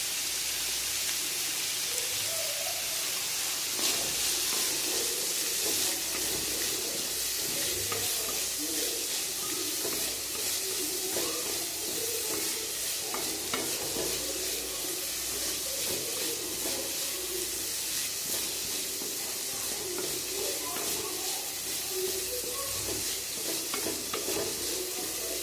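Capsicum, beans and carrots stir-fried in a pan for bread masala, a continuous close sizzle with the scrape of a spatula stirring now and then, steady throughout with no talk.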